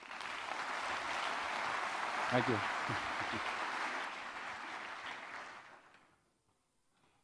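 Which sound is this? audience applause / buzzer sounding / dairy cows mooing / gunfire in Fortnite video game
audience applause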